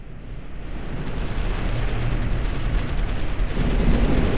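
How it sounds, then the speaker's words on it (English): Heavy, continuous gunfire and explosive rumble in the real-time strategy game Ground Control 2, a dense, loud barrage of rapid shots that builds steadily and fills the whole stretch without pause. "We're under heavy fire."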